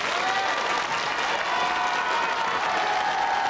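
A studio audience at a 1987 French regional television show applauds on cue, a loud, dense, even wash of clapping that holds steady throughout, with a faint tonal hum running beneath it.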